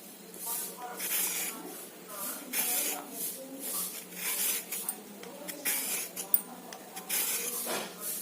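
A carrot is scraped against a peeler in a kitchen, rasping strokes repeating in quick uneven bursts, close and fairly clear.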